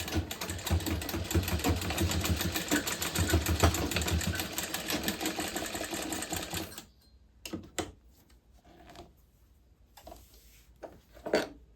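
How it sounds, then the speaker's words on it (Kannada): A sewing machine stitches along one side of folded fabric, a steady loud mechanical whir for about seven seconds, then stopping, followed by faint handling noises and a couple of brief clicks. "ಇದು ಸ್ವಲ್ಪ ಎತ್ಕೊಂಡು ಸ್ಟಿಚ್ ಮಾಡಿಕೊಂಡ್ರೆ ಒಂದು ಸೈಡ್ ಆಗೋಗುತ್ತೆ."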